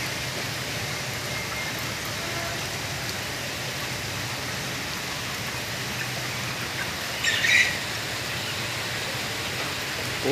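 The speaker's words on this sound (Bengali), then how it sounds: "প্রচুর বৃষ্টি হতেছে আজকে" Heavy all-day rain at a poultry farm, a steady dense hiss of rain on surfaces with a brief sharper patter or clatter around the middle, no talking.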